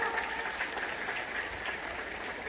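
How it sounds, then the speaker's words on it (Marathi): A crowd at a Bhaubeej celebration gathering in Chandgad claps vigorously, a dense continuous wash of applause that stays steady and fairly loud for the whole stretch. "आपल्या देवाभाऊसाठी जोरदार टाळ्या वाजवा"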